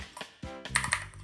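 Typing on a computer keyboard, a few quick, close key clicks in a short burst, crisp and distinct, with no talking.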